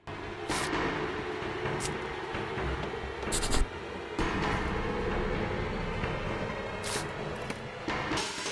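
A train rolls steadily in the Death Park 2 video game, a continuous low rumble with sharp metallic clanks recurring every few seconds, close and moderately loud.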